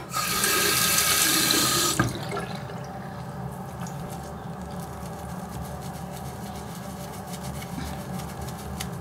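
A water tap runs hard into a sink for about two seconds while a makeup brush is rinsed, then cuts off, leaving faint drips and quiet room noise.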